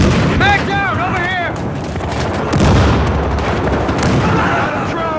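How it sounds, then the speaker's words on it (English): A grenade explodes during a Battlefield Hardline match on the Hollywood Heights map, a heavy boom rumbling under game noise and radio-style voices, with a second deep blast partway through. "That's a grenade."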